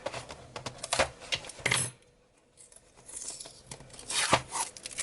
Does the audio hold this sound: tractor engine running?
no